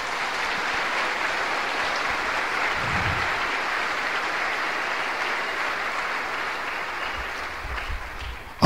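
Church congregation applauding during a sermon, a long, steady stretch of continuous clapping that holds at an even level before ending abruptly.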